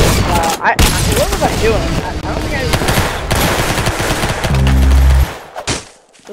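A golden gun fired in a shooting video game lets off loud, rapid bursts of gunfire that crowd the first five seconds, then cut out, with a player's voice talking over the shots.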